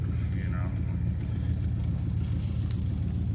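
A Dodge Dakota pickup truck driving in a convoy, heard as a steady low engine and road rumble throughout, with brief faint voices over it.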